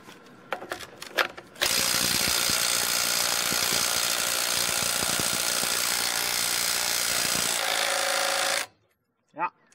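A Makita 3/8-inch impact wrench runs loud and close in one sustained burst of about seven seconds, with a few short knocks and noises before it and a sudden stop near the end.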